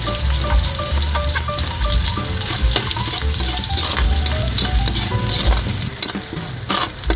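Hotdog slices frying in a pan, a loud, continuous close-up sizzle broken by repeated scraping and clattering strokes as they are stirred.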